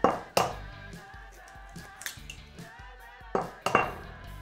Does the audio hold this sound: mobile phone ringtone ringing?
no